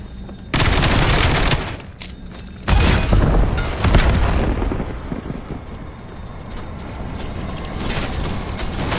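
Video game gunfire hits in loud, dense bursts, with two heavy volleys early, then a rattling tail of scattered shots and mechanical clatter fading to quieter fire.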